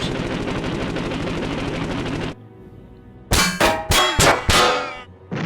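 Rapid bursts of aircraft gunfire strike a B-17 bomber's airframe in the Interceptor Ace flight game: a steady droning roar cuts out, then loud metallic clanging impacts and cannon bursts crack in quick succession, close and harsh.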